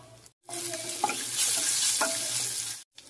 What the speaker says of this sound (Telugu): పచ్చళ్ళకు పోపు వేయించుకోవడం కోసం ఈ పాత్ర పెడుతున్నానండి. ఇందులో కాస్త నూనె చుక్క వేస్తున్నాను.